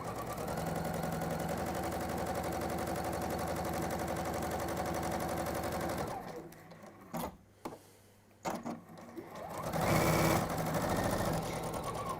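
A sewing machine runs steadily for about six seconds, then stops and starts in short bursts as it reverses to lock the stitch before running on again.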